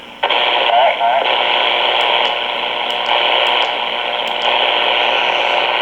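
Steady hiss of FM static from a President Washington 10-meter mobile radio, loud and continuous with no voices coming through. A few faint clicks sit over the noise.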